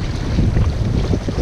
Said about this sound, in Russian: Вот это уже страшновато становится. С таким ветрюгой.